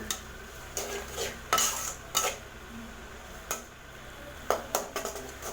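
Tomatoes and sundakkai sautéing in oil, faint frying under sharp clinks and scrapes of a spoon stirring against the pan at irregular intervals.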